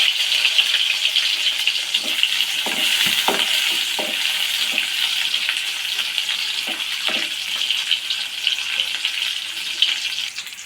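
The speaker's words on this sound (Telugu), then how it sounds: "కొంచెం ఆవాలు వేసాను. ఉల్లిపాయ ముక్కలు వేస్తున్నాను." Onion pieces frying in a pan with mustard seeds for a drumstick curry made with milk: a steady, even sizzle throughout, with faint occasional taps of stirring beneath it.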